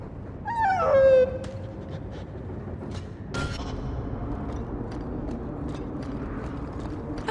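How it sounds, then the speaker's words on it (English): A dog in the video game Dragon Age 2 gives one clear, rising whimper near the start, then short clicks and a low, steady game background follow. "He's a sweet dog, Hawke."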